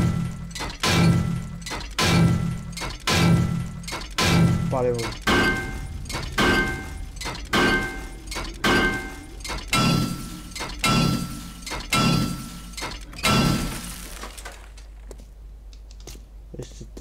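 A car is dismantled in the survival game 7 Days to Die through a regular series of sharp metallic impacts, about one each second, that crunch and clatter before stopping near the end, with a player briefly speaking between hits.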